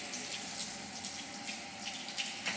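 Water flows steadily through a shell and tube heat exchanger with hot and cold lines, a constant broadband hiss and rush like running tap water, fairly close and unbroken, with faint splashy flickers throughout.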